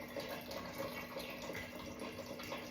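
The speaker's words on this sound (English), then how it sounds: "so now I'm filling it up with water" A pot of pinto or black beans being filled with tap water in a kitchen, a faint, continuous stream of running water with no talking.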